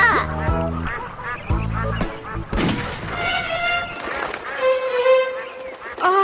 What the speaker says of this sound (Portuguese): encontrou um lago onde patos selvagens brincavam alegremente